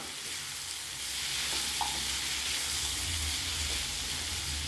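Jackfruit seeds frying with spice powder in a pan make a steady, even hiss of sizzling oil, with a faint stir or two and no clear clatter.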